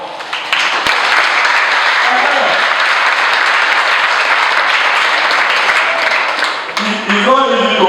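An audience claps loudly and steadily at a scholarship event, a dense continuous wash of applause. It fades near the end as a voice begins to speak over it.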